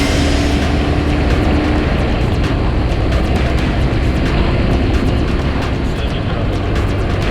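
Aircraft engine roaring steadily as a plane takes off in a flight video game, a loud continuous drone with a faint tonal hum, no gaps or quiet spells.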